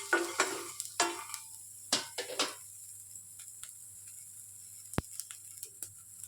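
Cumin seeds and small coconut pieces dry-roasting in a pan, a few sharp stirring scrapes and crackles early on, then a quieter stretch with sparse ticks and one sharp knock, nearby and without talk.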